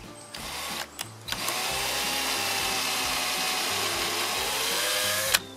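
A power drill bores into clamped wood pieces while a squirrel feeder is built, starting with a couple of short bursts and then whining steadily for several seconds up close.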